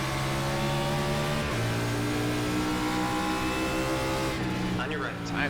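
A NASCAR race car in iRacing at New Hampshire accelerates with a loud, sustained engine drone that shifts pitch midway and builds steadily. A voice talks over the engine near the end.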